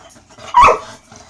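A dog gives one sharp, close bark that stands out loudly against a quiet room.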